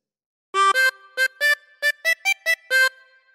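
A harmonica plays a short, bright melody of about nine clear notes from Pop Goes the Weasel after a moment of silence, some notes quick and some held a little longer.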